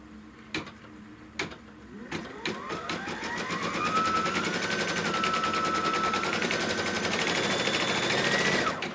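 A Kimberbell embroidery machine stitches a placement line, starting with a few sharp clicks and then speeding into a rapid, steady mechanical chatter with a rising whine, close and continuous, with no speech.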